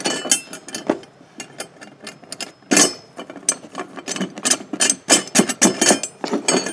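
Nuts on an 80cm satellite dish mount being tightened by hand: a busy run of close metallic clicks and ratcheting clinks in irregular bursts, with louder clusters toward the end and no talk.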